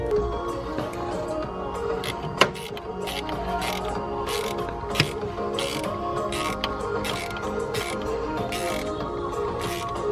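A ratchet with a 7mm deep socket tightens a hose clamp on the coolant and air intake hoses of a 1990 MK1 VW Cabriolet, giving a steady run of close mechanical clicks for about ten seconds, with two sharper knocks and no talk.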